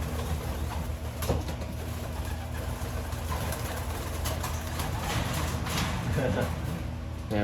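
Racing homer pigeons cooing softly in a loft, a low continuous murmur of coos with flutters and a steady background hum, fairly close and unbroken throughout.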